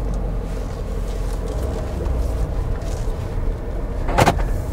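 A Range Rover Westminster being driven, its engine a steady low rumble with road noise throughout and a brief knock or rattle near the end.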